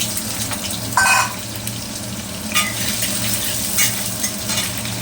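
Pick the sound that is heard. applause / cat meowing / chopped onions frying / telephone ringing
chopped onions frying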